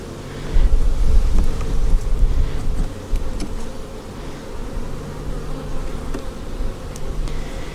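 Honey bees buzz around an open beehive during a split, a dense close drone that swells and fades with some wind rumble against the microphone.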